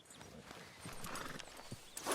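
Horse hooves clip-clop at a slow walk in Red Dead Redemption 2, soft and steady, with a brief whinny near the end.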